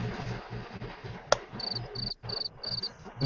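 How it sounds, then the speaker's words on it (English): Cricket chirping sound effect played during a live vaping vlog, with repeated short high chirps in an even rhythm over a low background hum and a single sharp click. "Oh no, not crickets."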